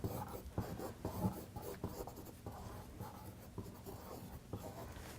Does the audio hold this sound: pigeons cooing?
no